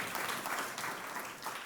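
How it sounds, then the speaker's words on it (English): Sustained audience applause at an afternoon food summit event, a steady dense wash of many hands clapping throughout, fairly even in loudness with no talk over it. "Please give Rachel a round of applause, everyone."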